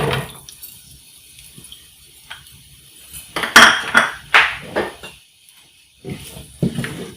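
Chopped onions go into about a spoonful of hot oil in a pan for an aloo shimla mirch dish: a few light utensil clinks, then loud bursts of sizzle and clatter that fade and return, with no talking.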